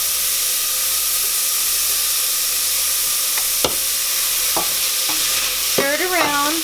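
Celery and carrots sautéing in a pot for creamy corn chowder, a steady hiss of frying with spoon clinks and scraping stirs toward the end.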